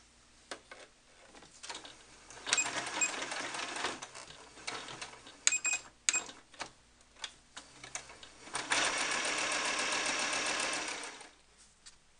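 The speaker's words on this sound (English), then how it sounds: "With right sides together, we're going to sew along the outside edge of the tail fin" A sewing machine stitches the outside edge of a cloth mermaid doll's tail fin, rapid mechanical whirring bursts with clicks and pauses between, ending in one longer steady run.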